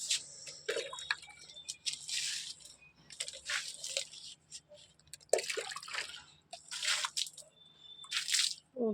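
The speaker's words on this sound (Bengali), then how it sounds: "বাকি গাছগুলোতে জল দিয়ে নিই" Water poured onto heat-wilted potted plants in a hot outdoor setting: several bursts of splashing, dripping and soaking sounds, fairly close, separated by short pauses, with no talking.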